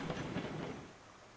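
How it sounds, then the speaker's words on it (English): A steam train in the Railroads Online game runs backwards along the rails, giving a broad, steady rumble and rolling rail noise that eases off slightly over a short stretch, with no voices. "I'm running the train backwards."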